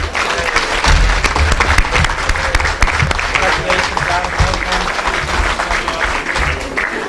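Sustained applause from an audience at a school exhibition awards ceremony as a sixth-class pupil winner comes up, loud and dense clapping filling the hall with some crowd noise, steady throughout.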